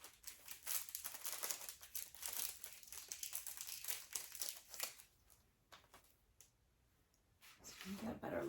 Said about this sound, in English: Let me take it out of its little cellophane.